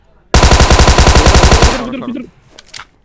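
Rapid automatic gunfire in a video game, a loud sustained burst of about a second and a half with a sharp regular rhythm, then a fading tail and a few faint clicks.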